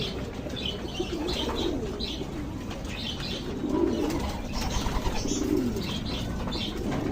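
Pet pigeons cooing in a loft, soft low murmuring coos repeating under a constant background hiss, with faint chirps and a few wing flutters nearby.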